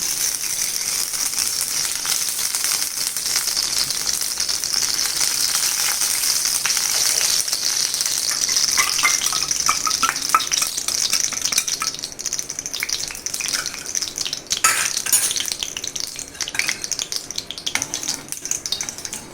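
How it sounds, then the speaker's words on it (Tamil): Ghee sizzling in a heated pan at the start of a cream of cauliflower and broccoli soup, a steady broad hiss with faint rattles and clinks throughout, close and continuous with no talking. "இப்போ அடுப்பில் பேன் போட்டு ஹீட் ஆனவுடனே நெய் விடணும்"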